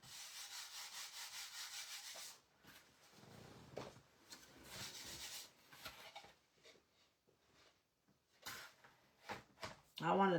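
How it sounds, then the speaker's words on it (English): Rough rubbing strokes of a sanding block on a bamboo plant stand, several bursts with pauses between them, fairly quiet. "I'm going to go back over this with my sanding block real quick."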